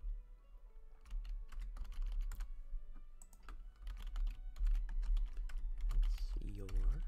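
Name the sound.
computer keyboard typing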